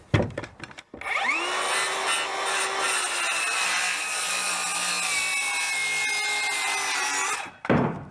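A power saw cuts through a wooden rafter board marked with a speed square, its rising whine settling into a steady loud cutting roar for several seconds before winding down.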